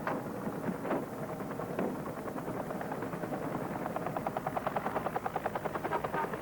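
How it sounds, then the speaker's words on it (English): A medevac helicopter's rotor thumps steadily, growing louder and more rhythmic as it lifts off, with wind noise over the microphone. "Medevac is lifting off."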